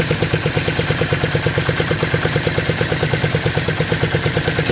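A Yamaha Virago motorcycle with straight drag pipes idles on a test run, its exhaust pulsing in a steady, rapid loping rhythm, close and loud with no talk.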